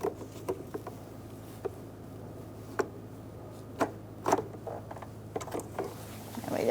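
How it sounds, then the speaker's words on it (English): Stuck electrical connector on a 2002-2006 Honda CR-V being pushed and worked to unlock, a series of faint scattered plastic clicks and scrapes, some in quick clusters, over a low background hum. "you're gonna have to push pretty hard on that connector to unlock it"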